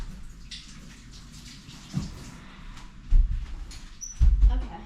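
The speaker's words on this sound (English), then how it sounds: "let me just wash my hands" Tap water runs over hands at a kitchen sink during baking, a steady soft wash with a few louder splashes and clunks near the end, and faint voices in the background.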